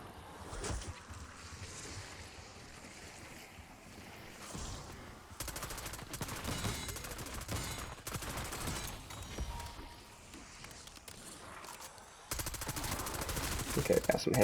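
Gunfire in a zombies video game mode, rapid repeated shots landing headshots, loud and dense in bursts with brief lulls, continuing through the clip alongside game noise.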